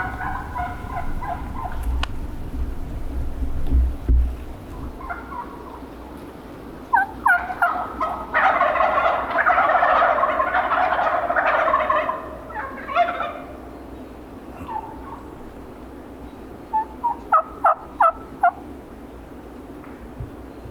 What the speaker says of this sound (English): We got gobblers over here, so they're spanning across.